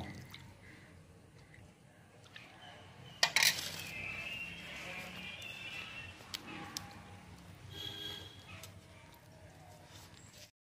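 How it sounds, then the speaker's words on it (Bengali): Pitha batter being mixed with milk in a bowl for Bengali fried palm pakan pitha, heard as soft wet squishing and occasional clinks, with a sharp burst of clatter partway through; no talking. "তো এই দুধটা দিয়ে এবার ব্যাটারটা গুলে নেব"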